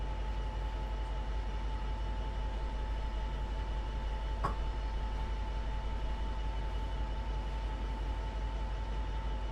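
Metrolink F59PHR diesel locomotive in Train Sim World 5, a steady loud engine drone with a constant tone running throughout and one brief bump midway, no voices.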